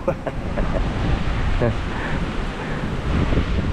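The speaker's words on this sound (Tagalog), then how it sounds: "Ayan, at malakas na naman yung alon." Strong ocean waves surge and crash near the shore in gusty weather, a steady broadband roar buffeted by wind noise on the microphone, with voices faintly present.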